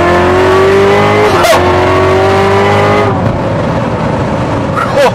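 A 1000 hp Corvette with traction control off accelerates hard, its loud engine note climbing steadily up close before a sharp shift and renewed rise, with wind and road roar filling the background.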